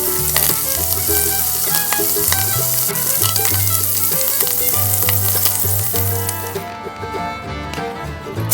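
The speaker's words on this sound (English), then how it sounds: "You might have to sear the pork in batches." Pork sizzling and searing in a hot pan, browned in batches for Southern collard greens, a steady loud fry with scattered spatter and clinks, music-like tonal layers running underneath throughout.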